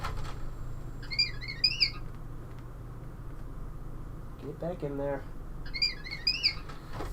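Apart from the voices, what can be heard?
R2-D2 sound effect from a custom Xbox 360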